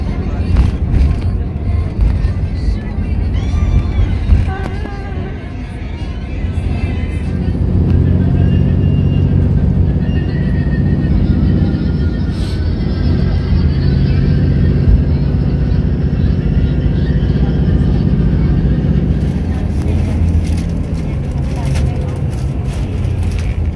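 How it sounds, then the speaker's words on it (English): Steady low engine rumble and road noise inside a moving bus travelling from Jerusalem toward Tel Aviv, continuous throughout with faint background voices. "I'm on the bus heading back to Tel Aviv."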